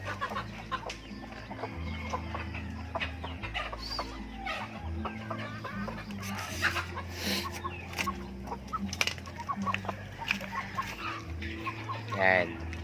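Free-range native chickens cluck steadily at a farm, several birds heard at moderate distance with scattered calls over continuous low background noise, and a brief louder squawk near the end.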